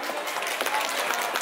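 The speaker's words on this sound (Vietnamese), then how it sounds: "Hãy cho một tràng vỗ tay cổ vũ đi ạ." Steady applause from an audience at a Vietnamese Christmas party in Garbsen, a dense continuous patter of many hands filling the short stretch without a break.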